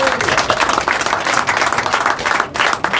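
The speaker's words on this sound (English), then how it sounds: "So I think that deserves a round of applause" A live audience at a piping podcast show applauds the crew, a loud, close, steady burst of clapping and cheering that continues throughout.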